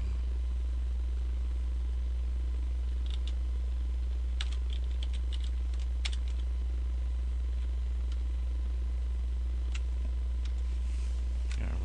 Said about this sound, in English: And then I just backspace over the word Fontwork and type something in